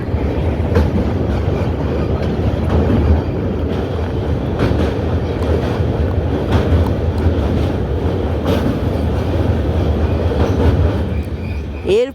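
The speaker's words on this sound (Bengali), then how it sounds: "চলে আসছে নসিপুর রেল ব্রিজ। এই নসিপুর রেল ব্রিজের ওপর আমরা পা রাখলাম।" The Kolkata–Sairang Express (train 13125) rolls across the Nasipur rail bridge over the Bhagirathi River, a loud, steady rumble with rhythmic wheel clacks heard from inside the coach, and a brief squeal near the end.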